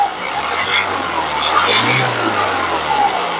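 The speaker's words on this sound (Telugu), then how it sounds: "ఒకసారి యాక్సిలరేటర్ ఇచ్చి ఇంజిన్ యొక్క నాయిస్ అనేది వినిపిస్తున్నాను చూడొచ్చు." A 2014–2016 Honda Mobilio's engine is revved with the accelerator, the close motor note swelling to a peak around the middle and then easing back to a steady hum.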